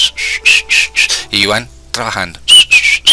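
A person whistles a bright, repeated melody in short phrases. Some brief speech breaks in partway through, and then the whistling returns.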